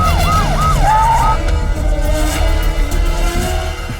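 An ambulance siren wails loudly and close, with rising and falling electronic tones over a steady low engine rumble, in a dramatic scene from a Hindi-dubbed action film.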